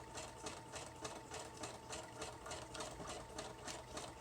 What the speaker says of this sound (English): I need to clean my sewing machine. It's really noisy because it needs cleaning.